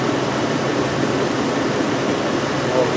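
A 2005 VW Touareg 4.2L V8 with a lean fault idles steadily with a smooth, even engine hum, close and constant, while someone talks over it.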